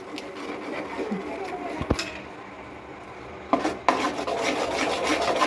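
Milk powder is stirred into a coconut topra pak sweet mixture in a pan, producing continuous close scraping and rubbing with a couple of sharp utensil knocks against the pan, and no talking.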